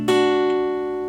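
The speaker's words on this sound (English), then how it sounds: "The last chord I play in this little transition part is this minor 7th" A single minor seventh chord strummed once on guitar, fretted at the 7th position, ringing out clearly and sustaining evenly for about a second with no talk.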